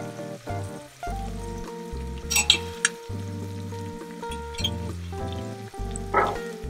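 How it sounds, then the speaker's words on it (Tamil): Green chillies fry in a pan for chicken biryani, making a steady sizzle with a few sharper scraping bursts as they are stirred. Tonal music plays underneath. "நல்லா கிளறி விட்டுக்கங்க."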